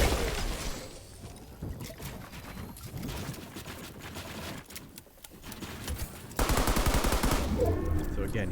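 Gunfire sprays in bursts in a competitive shooter video game, with rapid shots under a commentator's voice and a louder burst near the end.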